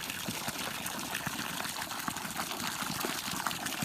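Water gushes steadily out of a pipe coming from a mountainside, a constant close splashing rush with no voices.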